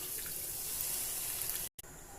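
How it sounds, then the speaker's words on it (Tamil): Water is poured into a pan of sautéed tomato base while cooking road-side style mushroom masala, a steady close hissing splash and trickle that runs continuously, then briefly cuts out near the end before resuming. "தண்ணி சேர்த்துக்கலாம்"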